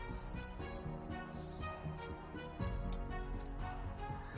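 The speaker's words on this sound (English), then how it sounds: "Oh god, these crickets" Feeder crickets chirp near a tarantula enclosure, a steady series of bright, rhythmic trills repeating close by with no talking.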